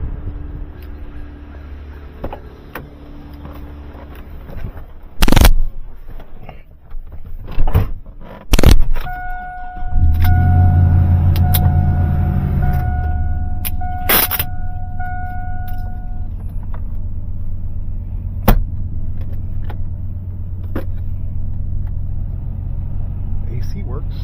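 A Chevrolet Silverado pickup truck is driven, its engine a steady low rumble throughout with a few sharp knocks and clunks early on and a brief horn-like tone in the middle; speech is also present over it.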